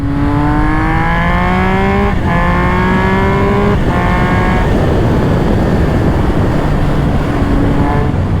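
A Triumph Speed Triple 1200 RS motorcycle accelerates hard in second gear, its engine note climbing in loud, rising sweeps, briefly dipping between pulls, then settling into a steady roar with heavy wind noise.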